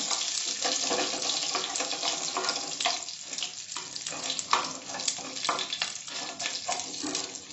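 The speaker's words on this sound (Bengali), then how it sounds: "এবারে কারি পাতা দিয়ে দিলাম, একটু নেড়ে দিলাম।" Fenugreek seeds and curry leaves sizzle in hot oil for a Karnataka-style vegetable sambar, with steady close crackling and occasional stirring scrapes running throughout.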